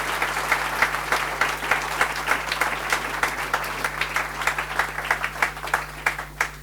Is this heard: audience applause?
yes